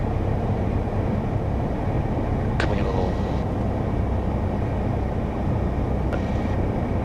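Small airplane circling down toward a landing, a steady loud engine drone filling the whole stretch inside the cabin, with a couple of brief tonal chirps.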